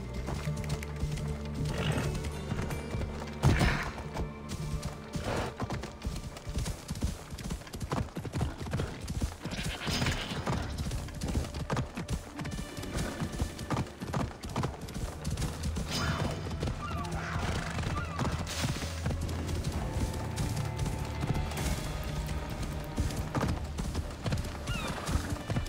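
Horse hooves galloping in Assassin's Creed Odyssey, a steady rapid clatter running the whole time under a dense bed of game music and effects, with occasional whinnies and clanks.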